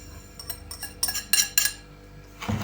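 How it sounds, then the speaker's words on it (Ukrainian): A few light clinks and scrapes of a utensil against a bowl while stirring egg yolks, salt and sugar, irregular and close, ending with a soft thud. "І перемішую."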